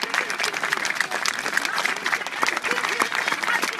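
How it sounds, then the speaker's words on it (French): Crowd applause at a street protest in Paris held in solidarity with Aleppo, steady dense clapping throughout with a voice and crowd noise mixed in. "on doit les applaudir"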